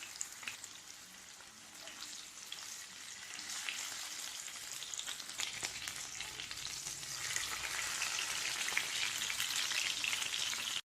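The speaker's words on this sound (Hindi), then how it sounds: "मछली को बैचेस में ही फ्राई करें।" Fish pieces fry in oil in batches, a soft steady crackling sizzle that grows slightly louder toward the end, heard alone with no talking.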